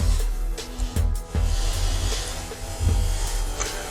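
A loud mechanical buzzing hum from a freezer runs throughout, with a few sharp clicks and knocks punctuating it.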